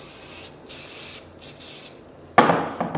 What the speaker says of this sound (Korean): 스프레이를 전체에 뿌려요, 이렇게